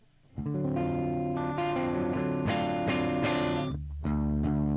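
Heavily distorted, fuzzy bass notes through a 4x10 and a 2x12 cabinet mixed together, played loud and sustained, a thick gritty tone with a short pause before a final lower note rings on.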